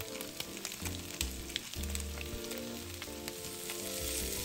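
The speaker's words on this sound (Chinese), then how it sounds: "轻轻翻动，把四周都煎到微微上色" Meat pan-frying slowly over low heat, a soft steady sizzle with occasional light scrapes and turning sounds, over faint background music.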